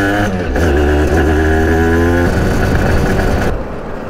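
An Aprilia RS 125 motorcycle engine revs loud and close, a rising, buzzing mechanical tone that holds steady and then drops away near the end.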